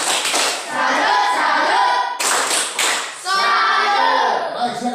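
Audience clapping at a classroom or school presentation, a steady burst of close hand claps with a brief break midway, continuing over faint background chatter.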